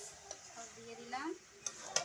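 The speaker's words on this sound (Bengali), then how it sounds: "এবার একটু কষিয়ে নেবো।" A spoon stirs and sautés chicken curry in a pan, making quiet scraping strokes with a few sharper clinks against the metal near the end.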